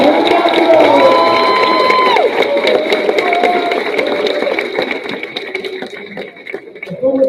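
Large crowd cheering and applauding at a championship ceremony, loud and sustained throughout, with shouts and whistles rising over dense clapping that tapers slightly toward the end.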